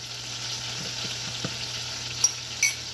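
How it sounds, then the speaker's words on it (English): Butter sizzles in a pan as a steady, fairly quiet frying hiss, with a few soft clicks and pops from the pan near the end. "That's my butter sizzling."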